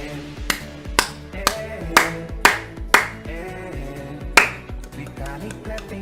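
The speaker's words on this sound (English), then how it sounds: "Vitalik clapping, clapping, clapping, clapping." Sharp, bright claps or snaps land in an uneven rhythm over a musical backing, loud and close, with several strong hits in the middle.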